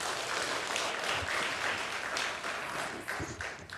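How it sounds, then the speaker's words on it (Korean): A church congregation applauds during a service, a soft, steady wash of clapping heard from some distance with no talking over it. "이분들 위해서 한번 박수해 주시기를 바랍니다."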